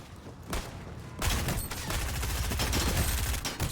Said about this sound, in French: quand je tire, ça aurait pu la tuer